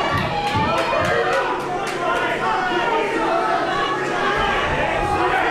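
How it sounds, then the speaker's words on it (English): A boxing crowd at a Wildcard Promotions fight between Ian Gibson and Johnny Haile roars and cheers continuously, a dense wall of shouting and chatter that stays loud throughout. "the crowd is lapping up this action. Everyone on their feet, everyone cheering"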